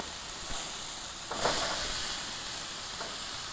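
Burger sizzling on a barbecue grill as it is flipped, a soft steady hiss rising in a brief louder scrape-and-sizzle burst midway, with a couple of faint clicks.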